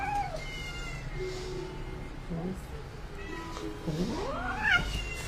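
A five-month-old cat meows and caterwauls with several drawn-out, rising and falling cries, the last one loudest, over a quiet indoor background.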